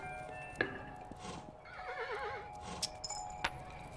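A tired horse in the video game Kingdom whinnies with a quavering neigh, mixed with hoof clops and a few sharp clicks, fairly close and moderately loud.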